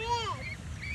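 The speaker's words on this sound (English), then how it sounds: "There's four ducks coming." Ducks call near a playground pond: a short run of honking, quacking cries close by, quickly followed by fainter calls, with people talking nearby.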